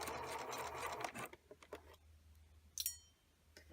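A sewing machine back stitches a cloth bag, a fast dense mechanical whir for about a second, then a few isolated clicks and a brief sharp tick in a quiet room.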